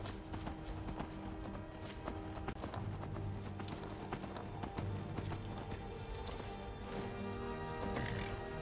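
Rapid, rhythmic hoofbeats of a galloping horse in the video game Skyrim pound steadily throughout, close and continuous, with occasional thuds.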